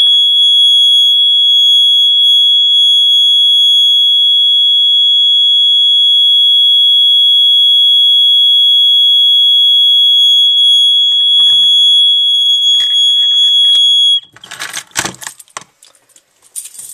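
A Simplex 2901-9836 (Gentex GX-90) fire alarm horn blares a loud, continuous piercing tone for about fourteen seconds, then cuts off, followed by clattering metallic jangling and handling noises.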